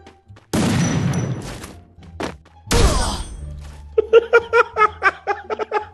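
Winchester rifle gunshots in a shooting video game, two loud close blasts with long decays a couple of seconds apart, followed by a quick rhythmic run of short thumps.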